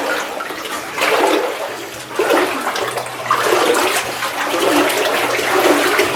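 Water in a flooded old lode mine sloshes and splashes in repeated surges as someone wades through it. The noise is close and fairly loud, with no talking.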